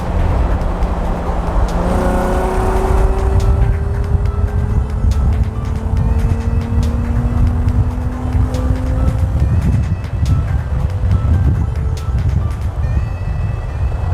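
An Infiniti G35 with a muffler delete and test pipes accelerates on a congested road, heard from inside the car: a loud engine drone with rising tones through gear pulls, mixed with wind and road noise, no talking.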